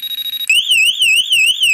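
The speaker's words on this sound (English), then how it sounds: "like a crazy loud siren." A very loud electronic siren triggered through the relay output of a Game Timer Pro device, starting with a steady tone and then switching to a rapid warbling wail that rises and falls repeatedly, close and alone.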